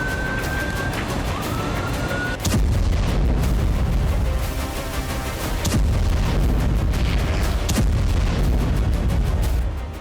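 Loud, rumbling wartime explosions on the Russia–Ukraine front, with sharp booming onsets one after another against dense noise, a faint siren-like tone early on.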